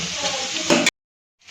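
Namkeen dough strips deep frying in hot oil for a Diwali snack, a steady close sizzle with a brief stir or flip near the end before a sudden cutoff to silence.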